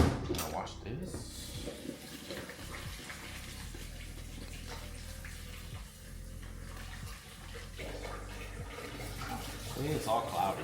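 Water runs from a kitchen tap while food is rinsed clean of dirt, a continuous splashing flow under moderate volume, with a person talking over it.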